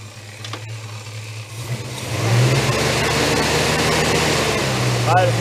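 A warmed-up Holden HK car engine idles with a low steady hum, then revs up and holds a louder, rougher drone, heard up close. A person's voice shows faintly in the background.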